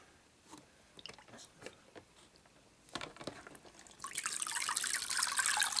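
Water sloshes and splashes around a floating toy turtle submarine. Scattered small clicks and wet knocks come first, then a loud continuous splashing rush takes over near the end.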